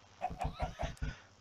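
A Minecraft chicken clucks in a quick series of five short, evenly spaced clucks, close and clear, with no talking over it.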